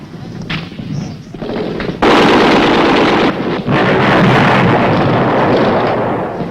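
Vietnam War combat with an infantry platoon firing: a dense, loud roar of gunfire and explosions breaks in suddenly after a quieter, muffled start and keeps going in heavy continuous bursts.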